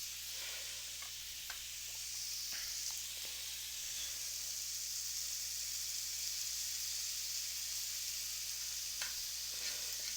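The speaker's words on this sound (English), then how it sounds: "Caramelize the onions a little bit." Onions caramelizing in a frying pan, a constant soft hiss of sizzling with a few faint clicks and stirs, no voices.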